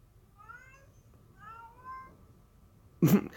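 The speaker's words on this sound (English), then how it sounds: "That's how she meows." A cat gives two soft, drawn-out meows in a quiet room, followed by a short louder thump or bump at the end.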